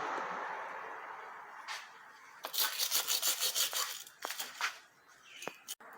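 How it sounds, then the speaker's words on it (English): Brush scrubbing the pan of a Nissan RE5R05A automatic transmission before it is removed. Close, rhythmic back-and-forth rasping strokes come in a quick run of about eight to ten, followed by a few separate scrapes. "Give the pan a nice scrub before you take it off."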